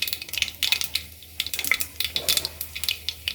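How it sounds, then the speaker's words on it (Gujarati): Mustard seeds and cumin crackle and pop in hot oil while dal is tempered, rapid uneven bursts of sharp spattering crackles close by, with faint clinks of a utensil and no talk. "થોડીક રાઈ ઉમેરીશું હવે રાઈ સાંતળી જાય પછી તેમાં થોડુંક જીરું ઉમેરીશું"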